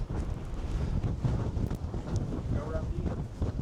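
Strong gusty wind buffets the microphone on an exposed hilltop at Wedgwood Monument in Staffordshire, a loud, continuous roar with no break.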